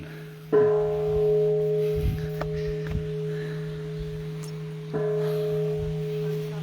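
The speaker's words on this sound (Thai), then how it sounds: "ตีระฆังแบบญี่ปุ่น" A Japanese-style bell at a Thai temple rings out from a single strike, its long humming tone sustaining and slowly decaying, then struck again near the end with a fresh ringing swell over faint background murmur.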